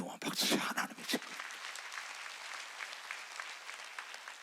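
A church congregation bursts into applause at a Sunday service, loud and sharp at first, then settling into a softer, sustained patter of many hands with some faint voices mixed in.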